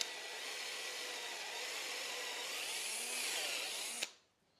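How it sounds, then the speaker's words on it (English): Power drill boring a screw-chuck hole into a sapele wood bowl blank, a steady loud whirring buzz lasting about four seconds before stopping abruptly. "And then drill our hole here"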